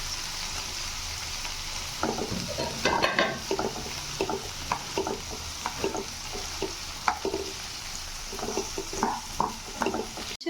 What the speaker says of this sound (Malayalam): നന്നായിട്ട് ചട്ടിക്കുക.